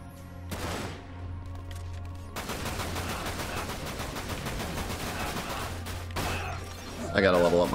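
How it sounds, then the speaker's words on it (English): A machine gun fires in Dirge of Cerberus: Final Fantasy VII in long, dense rattling bursts, loud and close, with short breaks and a voice speaking around the gunfire. "Machine gun, it's so terrible."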